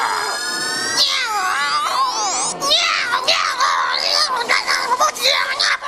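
A cartoon cat yowls and caterwauls in a Serbian-dubbed episode of The Smurfs, with loud, wavering, rising and falling cries that run almost continuously through the scene, close and alone without speech.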